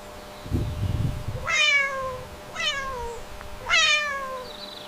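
A domestic cat meows three times in clear, close succession, each call rising and then falling, with short pauses between them and a brief low rumble just before the first.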